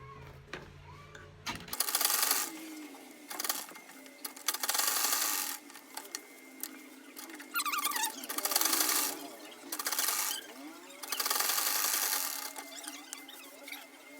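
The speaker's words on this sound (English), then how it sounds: "So I'm sewing the sides, the armhole plus the sides." A sewing machine stitches the side seams and armhole of a sleeveless princess bustier, running in repeated bursts of a few seconds with short pauses between, close and fairly loud.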